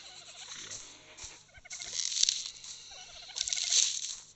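Dodo birds in ARK Survival Evolved video game give repeated gobbling, warbling calls in bursts, fairly close and clear, with faint game ambience beneath and no talking.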